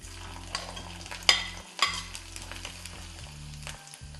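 Steady sizzling of ginger frying in hot oil, with a couple of sharp scrapes from a spoon against the pan.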